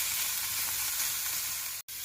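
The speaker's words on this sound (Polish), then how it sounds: "na patelni obok podsmażymy sobie kilka kawałeczków boczków w takich dość dużych kawałeczkach" Fairly large pieces of bacon fry in a pan beside a pot of soup stock, giving a steady, close, bright sizzle with no voices that drops out briefly near the end.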